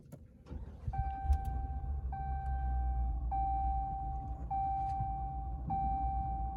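A 2021 Ram 2500 pickup's 6.4L Hemi engine starts and idles with a low rumble while a steady electronic chime tone repeats at regular intervals over it.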